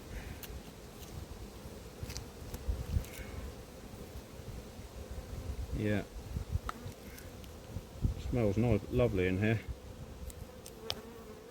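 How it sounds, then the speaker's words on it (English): Honeybees buzz around an open hive in an apiary, a continuous low hum with individual bees droning close past the microphone several times, while a person speaks briefly and quietly. "A lot of bees in here, I must say."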